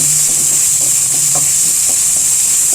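Carrots and beans sauté for a samosa filling, making a loud, constant frying hiss with faint, irregular stirring taps underneath.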